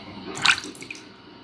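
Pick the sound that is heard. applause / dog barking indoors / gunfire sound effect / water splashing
water splashing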